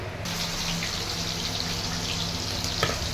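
Cumin, cardamom and cinnamon sizzling in hot mustard oil in a wok, a steady, loud hiss that stays even throughout, close up with no voices.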